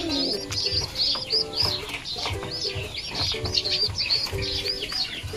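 Pigeons coo in repeated low, throaty phrases while other birds chirp higher up, a steady busy chorus nearby with occasional soft rustling.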